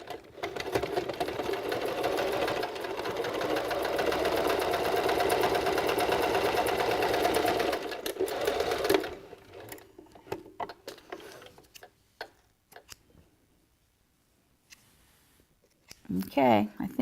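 A sewing machine runs fast and steadily on a beanie for about nine seconds, then stops, leaving faint clicks, fabric handling and a brief voice.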